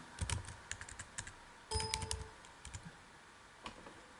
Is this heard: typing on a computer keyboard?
yes